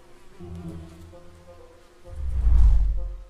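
Fruit flies buzzing in an orchard, a soft droning hum that swells louder and closer toward the end, with no voices.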